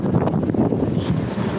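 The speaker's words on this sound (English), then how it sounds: "It's a bit windy here" Strong outdoor wind buffets the microphone at the 16th Street Mall in a loud, continuous, low rumbling gust with no clear voices.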